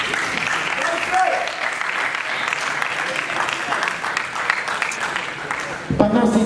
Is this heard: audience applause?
yes